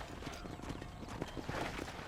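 Horse hooves clip-clop in the Red Dead Redemption video game, a soft, steady walking rhythm heard quietly on its own with no voices.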